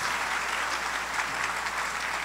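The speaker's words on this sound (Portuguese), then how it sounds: "Vamos aplaudir as mulheres, gente." Audience at a talk on marriage applauds, a steady wash of clapping from a crowd that continues evenly throughout, ending with a sudden loud bump.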